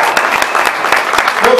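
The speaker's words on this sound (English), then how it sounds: "let's start by giving these kiddos a big round of applause" Crowd applause at a goat showing at a 2015 stock show, brisk clapping with distinct individual claps, with voices mixed in under it.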